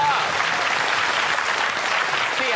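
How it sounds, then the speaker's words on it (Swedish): An audience at a medical conference in Japan applauds Stefan: a steady, dense burst of clapping from many hands, close and loud throughout. "Applåd för Stefan!"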